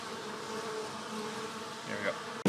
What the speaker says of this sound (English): just look at how many bees there are on the outside of the hive right now